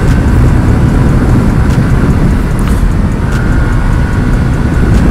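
A TVS Ntorq scooter engine revs hard while riding after its fourth service, a loud, steady engine drone with heavy wind rumble that holds for about five seconds.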